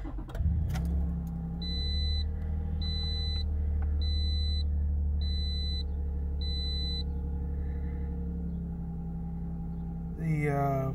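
A Toyota car engine cranks briefly and catches, then settles into a steady, loud idle rumble, with a string of evenly spaced dashboard warning beeps sounding over it partway through.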